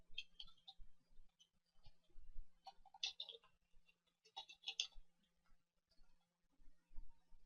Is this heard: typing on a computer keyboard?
yes